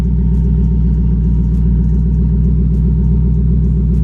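A Ford Mustang's engine idling close by, a loud, steady low rumble with an even throbbing pulse and no revving, while the transmission warms up.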